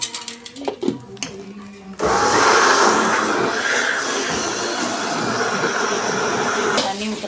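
A kitchen mixer grinder runs steadily, grinding soaked urad dal into batter for vada, a loud continuous whirring after a brief start, close up with speech around it.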